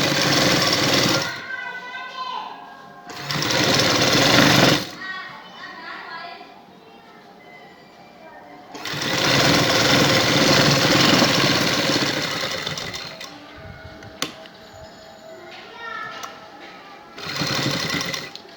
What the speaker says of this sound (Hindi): और ये सिलाई लगाएंगे।